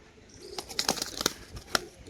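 Pigeons in a loft, several sharp wing claps and flutters with a soft coo, close by and fairly quiet, in a rapid irregular burst.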